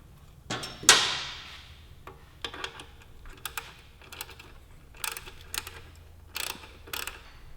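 An exhaust barrel clamp on a 2016 BMW S1000RR with an SC Project slip-on is tightened: one sharp metallic clank, then a series of light ratcheting clicks in short bursts, close and fairly quiet.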